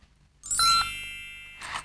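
A bright magic chime rings out alone as a fairy phone appears, a sparkling tinkle that rises quickly and then lingers and fades, with a softer shimmer at the end.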